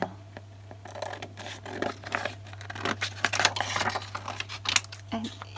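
Scissors snip through a playing card to cut a rough piece, with repeated crisp cuts, crinkling and handling noises up close beneath a steady low hum, and a voice speaking over it.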